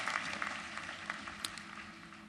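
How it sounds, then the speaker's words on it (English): Scattered clapping from a crowd, steady and moderately distant, with individual claps audible in the mix throughout. "Now they can get the applause, yes,"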